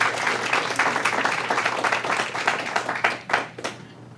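Audience applause fills a county board of commissioners meeting, a dense steady wash of many hands clapping from nearby that thins and breaks into a few scattered claps toward the end.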